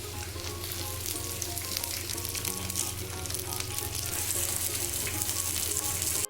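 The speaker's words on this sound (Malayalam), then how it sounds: "ആദ്യം ഒന്ന് എണ്ണയിൽ മുക്കി പൊരിക്കാം." Chicken pieces frying in hot oil for biriyani, a dense continuous sizzle with crackling, close and steady throughout.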